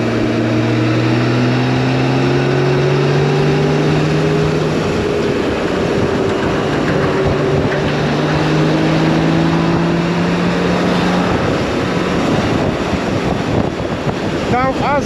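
A BMW K1600GTL touring motorcycle pulls away smoothly, its engine note rising in long gliding sweeps through gears beneath heavy, constant wind rush, loud and close from the rider's position.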